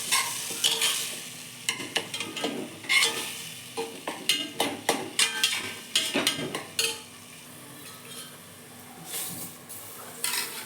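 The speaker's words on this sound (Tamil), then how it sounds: "நல்லா வதக்கி விடுங்க" Food being sautéed and stirred in a pot while cooking biryani: soft sizzling frying under repeated scraping and clinking of a metal spoon against the pan, irregular stirring strokes close up, no talking.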